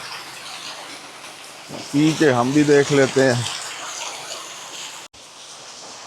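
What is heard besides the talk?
natural mountain spring water flowing as a man fills water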